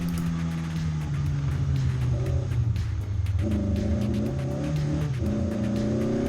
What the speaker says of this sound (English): Coming out of the corner and then going into a figure 8 configuration.